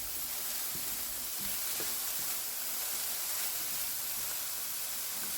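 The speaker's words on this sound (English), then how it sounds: "And just quickly saute that for another 5 or 10 seconds." Cut peppers and jalapeño sautéing in a hot pan for a Jamaican callaloo quiche, a loud, close, constant sizzle with a few light stirring clicks and no voices.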